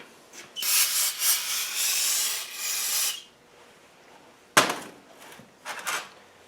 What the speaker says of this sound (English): A bit more brake cleaner in it.